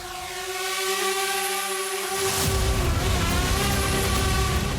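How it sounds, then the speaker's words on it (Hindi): Attack drone engines drone over Kazan city, a steady high whine with sustained tonal bands, loud and continuous, joined partway through by a broader rumbling roar. "इस शहर में ड्रोन इंजन्स की गूंज सुनाई देने लगी"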